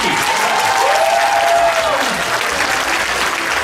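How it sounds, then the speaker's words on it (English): Auditorium audience at a cosplay masquerade applauding loudly and steadily, a dense wash of clapping with cheers and a brief whistle-like tone early on, sustained throughout. "Let's give a round of applause for Lucky."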